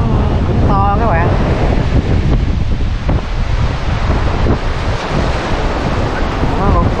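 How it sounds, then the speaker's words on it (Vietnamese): Big ocean waves crash and churn on the rocky shore of Cổ Thạch beach near Phan Thiết, a loud, continuous roar heavily buffeted by wind on the microphone. "sóng này cũng to các bạn"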